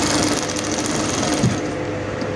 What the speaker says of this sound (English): I'm just top stitching on it now, and I'm sewing it very close to the first seam.